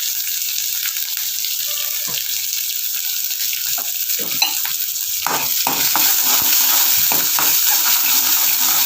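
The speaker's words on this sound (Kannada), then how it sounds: "ನಂತರ ಇದು ಸ್ವಲ್ಪ ಫ್ರೈ ಆಗಬೇಕು. ಈ ಥರ ಫ್ರೈ ಆಗ್ತಿದೆ." Onions frying in a pan for a Kannada brinjal huli, with a loud, steady sizzle and the scrape of stirring; bursts of stirring grow busier toward the end, with no voices over it.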